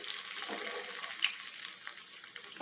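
Drumstick-leaf pakoda frying in a small pan of oil, a soft continuous bubbling sizzle with faint crackles and pops, close but quiet, heard alone.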